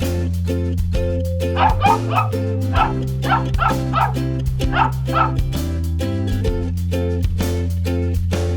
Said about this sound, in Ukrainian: Вірно, дітки, це собачка.